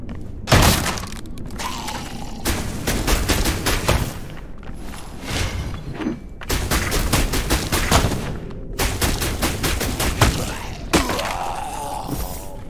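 Gunfire rings out in the video game Dungeonborne as repeated rapid bursts of loud shots, alternating with brief pauses and some crashing impacts, while a voice talks faintly underneath.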